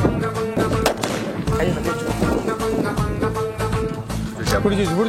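Firecrackers from a Sivakasi family gift box crack and pop in rapid, irregular bursts close by, mixed with loud voices talking and shouting.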